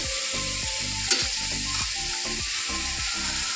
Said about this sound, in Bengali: ভাজা কটা করবো কটা পটল ভাজা একটা বেগুন ছিল